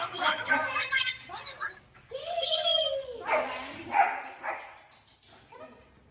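A dog gives short yips and whimpering barks nearby, mixed in with people talking and a little laughter.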